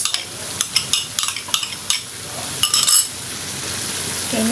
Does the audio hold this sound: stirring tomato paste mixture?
yes